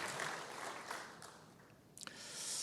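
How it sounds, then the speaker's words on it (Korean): A church congregation at a Sunday service claps in praise, a dense burst of applause that fades, then swells again at the close. "하나님께 영광의 박수, 집사님께 경의의 박수 하겠습니다."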